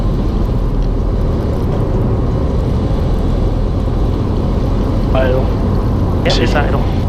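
A light training aircraft's engine drones steadily inside the cockpit during approach as power is pulled back toward idle, a loud continuous rumble with brief voice fragments over the intercom.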